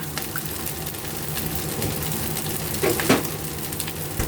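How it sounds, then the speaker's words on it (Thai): Shrimp fried rice with salted egg yolk being stir-fried in a hot pan: steady close-up sizzling and frying with faint stirring scrapes and a brief louder burst near the end. "ผัดเลยนะคะ"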